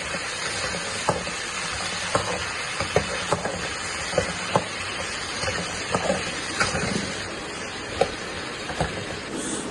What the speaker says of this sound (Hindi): अब मैं इनमें 2 कटे हुए आलू शामिल कर रहा हूँ और मैं इनकी अच्छी तरह भुनाई करूँगा।